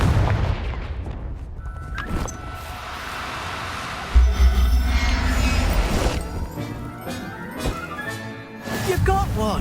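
A Confringo fire-blast spell bursts in Hogwarts Legacy with loud crashing impacts and booming thuds, set against game music and effects.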